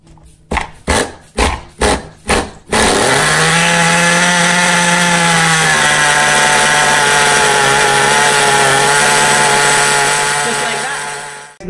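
A Redcat Racing nitro RC car engine is pulled over several times in quick bursts, then catches and runs continuously at a loud, high-pitched, steady buzz that eases slightly in pitch before settling into a sustained idle.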